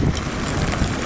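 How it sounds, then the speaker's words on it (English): Wind buffets the microphone outdoors at a classic car show, a steady low rumbling gust for about a second with no talk. "Yep, it's windy."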